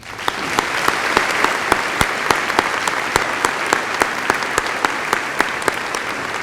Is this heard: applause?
yes